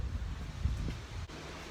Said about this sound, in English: but it's windy today